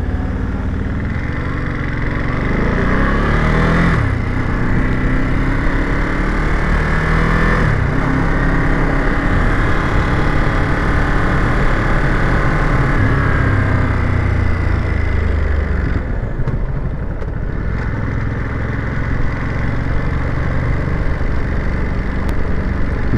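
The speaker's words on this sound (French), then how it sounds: "Bruit d'embrayage, bruit d'embrayage." Ducati Monster 2021 motorcycle engine running steadily and loud and close, with a constant mechanical drone and clutch rattle. Brief dips in the sound come and go, and no one talks.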